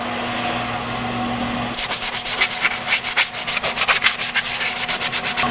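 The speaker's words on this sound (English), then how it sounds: "I'm going to go sand the shoes while that's doing its thing." Brake shoes being hand-sanded in a garage, the abrasive scraping in a steady back-and-forth rhythm of close, loud strokes that start partway through over a constant low machine hum.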